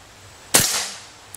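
A single shot from a Marauder PCP air rifle fired at a paper target: one sharp, loud crack with a short, fading tail, and nothing else around it.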